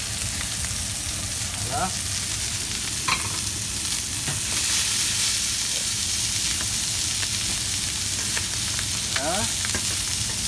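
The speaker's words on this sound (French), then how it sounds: "Maintenant, dans le même gras de cuisson, je vais jeter la mirepoix." Mirepoix of carrots, onions and celery thrown into hot leftover chicken cooking fat sizzles steadily in a pan, with stirring scrapes throughout and a brief voice speaking over it.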